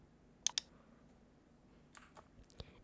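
Computer mouse clicks, a sharp close double click followed a beat later by a few fainter single clicks in a quiet room.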